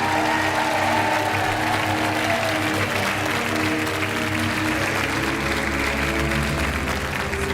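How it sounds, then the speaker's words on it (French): Studio audience on a French game show applauds steadily, a dense wash of clapping held at full strength from start to finish without talk. "sous les applaudissements."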